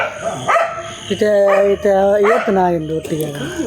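Several loud, close dog barks and yelps in quick bursts, one after another, with little pause between them.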